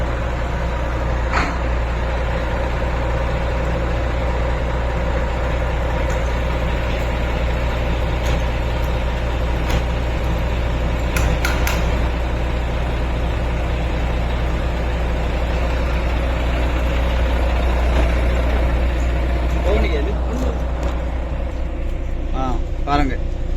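A Tata ten-wheel boom truck's diesel engine idles just after starting, a loud, steady low rumble that continues throughout while people talk over it.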